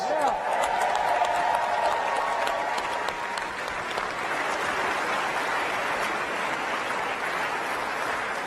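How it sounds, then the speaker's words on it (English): A crowd applauds loudly, sustained clapping that slowly tapers off over several seconds, with a voice briefly heard at the start. "Let's give them another round of applause."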